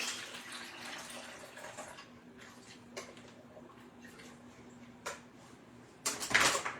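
Liquid is drained off thawed frozen food for a turkey pot pie: a soft, faint trickle for about two seconds, then quiet handling clicks and a louder clatter near the end.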